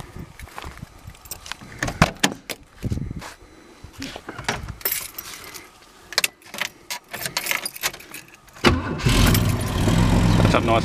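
Holden VK Commodore wagon engine cranking and catching, then settling into a loud, steady idle up close, preceded by jangling keys and clunks.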